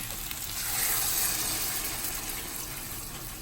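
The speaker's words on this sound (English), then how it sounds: "So we do have our sauce here. I'm going to go ahead and pour it." Sauce pours into a pan of frying chicken for a stew, giving a soft, steady sizzling hiss that swells and then eases over a few seconds.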